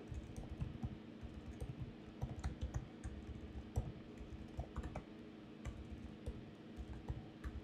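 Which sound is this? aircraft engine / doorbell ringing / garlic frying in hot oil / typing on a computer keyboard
typing on a computer keyboard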